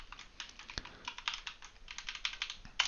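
Fast, uneven keystrokes on a computer keyboard while coding in C#, close and clicky with a couple of sharper key hits, no talking.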